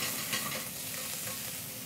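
Finely chopped onions in sunflower oil sizzling steadily in a hot saucepan while being stirred with a small spoon, a continuous close frying hiss with faint scraping, no voices.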